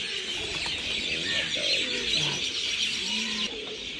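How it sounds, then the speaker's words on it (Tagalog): Medina pigeon cooing in an aviary at a zoo park in Barka, Oman, soft repeated coos and short calls close by, with a steady hiss of background noise and no talking. "Ito, Medina pigeon."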